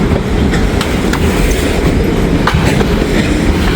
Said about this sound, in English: You can hear the click-clack.